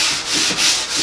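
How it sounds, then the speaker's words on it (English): Sandpaper scrubs paint off a car fender in steady back-and-forth strokes, a loud, close, hissy rasp swelling and dipping about three times with no voices. "as we start to sand, we are getting dust, which essentially means that paint's coming off"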